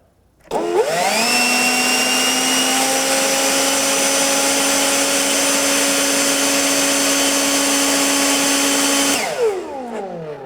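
A DeWalt 60V brushless handheld blower, model DCBL777, spins up to a loud, steady, piercing whine that holds for several seconds, then winds down and fades.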